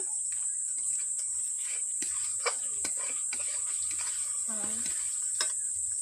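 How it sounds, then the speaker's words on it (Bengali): Paneer masala spices being stirred and fried in a pan with a little water added, a soft steady sizzle with scraping stirring strokes close by, under a constant high-pitched whine. "এরকম করে নাড়তে হবে, মশলা কষতে থাকবো 5 মিনিট।"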